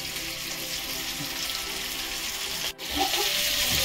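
Mushi fish frying on a wood-fired chulha stove, Agri style, gives a steady, close sizzle and crackle throughout, with a brief dip in the noise near the end before it picks back up.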